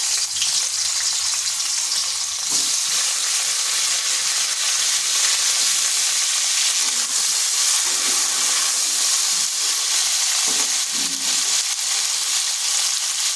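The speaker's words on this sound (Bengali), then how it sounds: "এরপর ওই তেলের মধ্যে দিয়ে দিচ্ছি কেটে রাখা আলু আর কুঁদরি।" Sliced potato and ivy gourd drop into hot oil and fry with a loud, continuous, hissing sizzle, close and unbroken throughout, with a few faint low knocks of the pan underneath.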